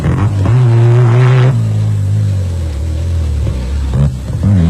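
Class 9 off-road race car, the Eskimo Refrigeration Orco, at top speed in the 1991 Thaba Nchu Sun 500 in South Africa: a loud, close engine roar that drops in pitch as it passes, then a steady rumble.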